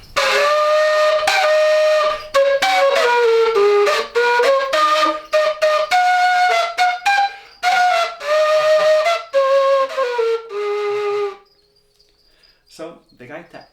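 A Colombian gaita hembra, a five-holed cane flute, plays a breathy, reedy melody with sustained notes and quick ornamented runs, loud and close, stopping abruptly before a few soft trailing sounds.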